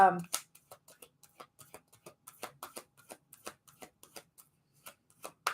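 Oracle cards being shuffled by hand, a string of crisp soft flicks and riffles in an irregular rhythm, close up, after a brief snippet of voice at the start.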